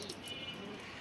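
Pigeons coo softly inside a cage, a low murmuring burble with a few faint higher chirps over steady background noise, brief and fairly quiet.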